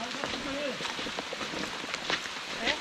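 Heavy rain pours down along the Siripada hiking trail on the off-season Sandagalathenna route, a steady close hiss of drops beneath a voice talking.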